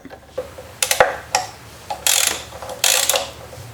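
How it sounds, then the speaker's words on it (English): Ratchet wrench with a 12mm socket turning brake caliper bolts on a Yamaha FJR1300 motorcycle, short bursts of close clicking ratchet strokes separated by brief pauses. "the brake caliper by removing the two bolts using a 12mm socket"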